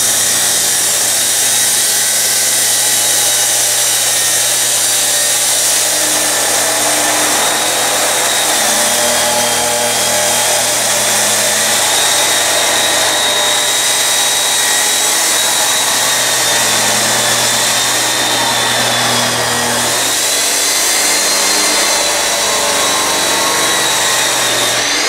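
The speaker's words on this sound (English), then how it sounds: "Chop saws, they draw a lot of power." A chop saw cuts metal in a continuous loud, harsh whine, steady and close for the whole stretch, with a slight dip in pitch near the end as the blade bites.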